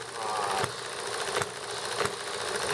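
A small horizontal engine runs steadily nearby with a rapid mechanical chatter and a few sharper knocks at intervals, moderately loud and alone.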